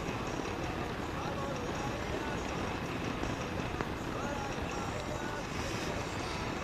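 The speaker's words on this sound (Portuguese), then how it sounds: "O som do vento fica alto nela." Steady wind roar inside a Caberg motorcycle helmet while riding at speed: a dense, unbroken rush of broadband noise that stays loud and even throughout.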